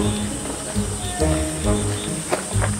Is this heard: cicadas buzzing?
yes